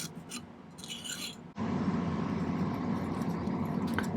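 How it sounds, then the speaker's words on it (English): A file rasps across the top of a silver ring setting with lapis, heard up close as a steady, gritty scraping that starts abruptly after a quieter, lighter rubbing. "Let's do a little filing across the top here."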